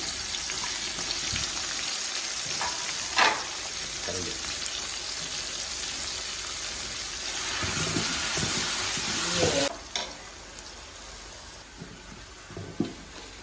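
Onions fry in 150 ml of oil, a steady sizzle with occasional clinks and scrapes of stirring, close and moderately quiet throughout.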